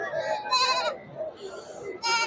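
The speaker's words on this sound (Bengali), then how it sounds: "সব বেঁধে রাখা হয়েছে এই ছাগলগুলো কিন্তু বিক্রি করবে" Goats tethered at a winter goat market bleat several times in short, wavering, close calls, one after another, with faint background voices between them.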